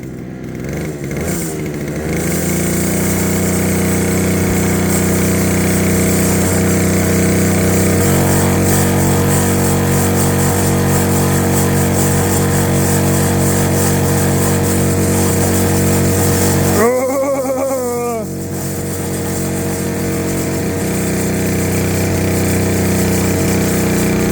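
Brush cutter engine spinning a 70 cm disc, a loud steady motor roar with a strong harmonic whine that holds for most of the run, briefly dips and revs around the middle, then settles back to a constant drone.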